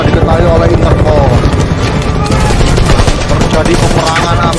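Rapid gunfire crackles continuously through a film battle between ninjas and Interpol police, loud and dense with sharp bursts and impacts throughout, voices faintly mixed in.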